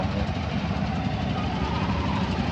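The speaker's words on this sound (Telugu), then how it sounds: "కారు పెట్టేసి ఆటోలో వెళ్తున్నాము" An auto rickshaw ride through city streets toward a flower market, with a continuous close engine drone and road noise, and a voice faintly mixed in.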